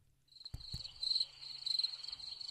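A crickets sound effect plays from a podcast soundboard: steady high chirping with a couple of sharp knocks near the start, fairly quiet, with no talking over it.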